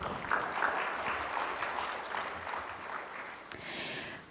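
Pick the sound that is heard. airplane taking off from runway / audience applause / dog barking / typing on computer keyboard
audience applause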